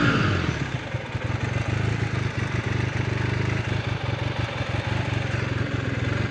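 A Honda CB450T motorcycle engine idles steadily nearby with an even, low, rumbling chug that stays loud and constant throughout, with no voices.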